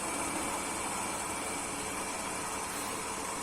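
A small DC motor spins steadily under test while its RPM is measured, giving a constant, fairly quiet whirring hum with broadband hiss that holds unchanged throughout.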